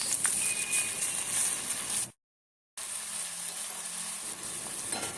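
Soy sauce poured into a hot pan with green chilli while making chilli paneer, bringing a loud continuous sizzle and hiss broken by a brief cut to silence, then frying on.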